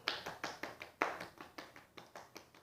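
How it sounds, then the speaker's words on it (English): Rhythmic hand claps slapping against a bare foot during a gentle yoga session, about a dozen soft, close, fairly even pats in quick succession with no talking. "clap your foot."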